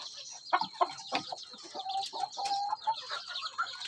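Several free-range Indonesian village chickens (ayam kampung) cluck and murmur nearby in an irregular patter of short calls, with a few higher squawks and a faint background hum.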